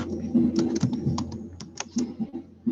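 Rapid, irregular clicking of keys on a computer keyboard, close and crisp, with quick bursts of typing and brief pauses.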